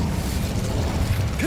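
In the Hogwarts video game, the Incendio fire spell is cast with a loud whooshing burst of flame and crackling mechanical clatter, ending in a short rising whistle.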